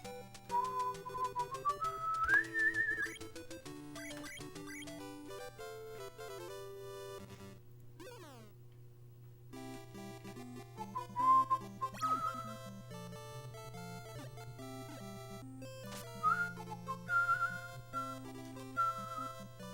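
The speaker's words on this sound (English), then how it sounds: "we got to the whistling part of that tune" A whistled melody rises and falls over a steady low synth tune in video game music, with occasional pauses between phrases; quiet overall.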